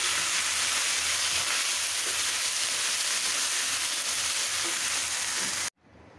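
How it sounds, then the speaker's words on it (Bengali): Greens tempered with onion, green chili, dried chili and garlic sizzle loudly and steadily in hot oil, with a continuous crackling hiss close by, then an abrupt cut to near silence. "রসুন দিয়ে শুকনো মরিচ রসুন আর পেঁয়াজ শাকটা বাগার দিয়ে দিলাম।"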